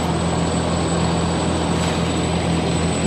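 Steady broadband engine drone from an aircraft flying overhead at SpaceX Starbase in Starbase, Texas, a constant loud roar with low hum tones, continuous throughout.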